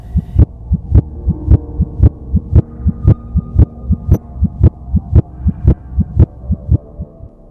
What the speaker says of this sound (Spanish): Era el corazón del viejo latiendo.